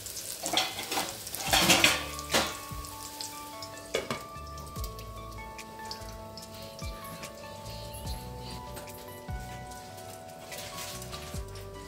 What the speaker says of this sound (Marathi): थोडेसे आपल्याला हे तुपात परतून घ्यायचे